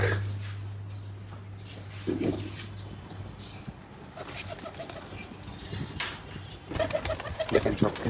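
Pigeons at a loft coo in low, repeated calls as they settle down, with wing flutters and a few scattered bird noises nearby over a faint steady hum.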